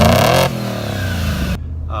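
A Ford Mustang fitted with MagnaFlow mufflers revs loudly up close, its exhaust note rising and then settling into a rough idle before cutting off abruptly.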